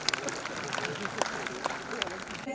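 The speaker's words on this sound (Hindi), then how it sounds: "जोरदार तालियां हो जाए हमारे अतिथियों के लिए" Audience applause at a university launch event at MDU, with a seated crowd clapping steadily in a dense, continuous patter while a voice speaks over it.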